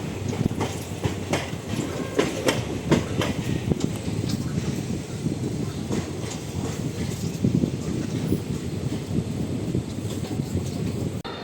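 The Sabari Express passenger train, Tirupati to Secunderabad, near Tenali station, rumbles steadily along the rails, its wheels clacking rhythmically over joints with a constant loud roar throughout.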